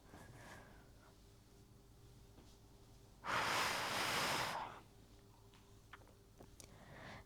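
During a posture and core workout, a person takes one strong, drawn-out exhale lasting about a second and a half, close and distinct against an otherwise quiet room.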